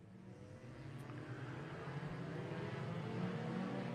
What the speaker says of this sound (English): 20 Keystone Sport Compact cars roar their way into turn number 1